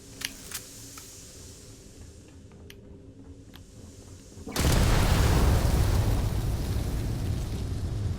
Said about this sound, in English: I upset something with that massive explosion.